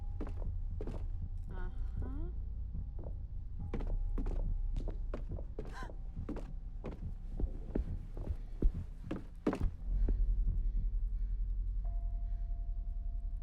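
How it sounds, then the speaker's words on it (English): A low, steady heartbeat thumps in a horror game, repeating throbs under a faint hum and scattered mechanical knocks, moderately quiet throughout. "Or is it just a heartbeat noise?"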